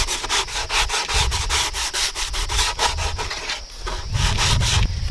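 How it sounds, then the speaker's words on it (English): A rough sanding sponge rubs around the edges of a cut plywood circle, giving steady back-and-forth scratchy strokes, close and fairly loud, with no talking. "take a rough sanding sponge and go around the edges, smooth them off"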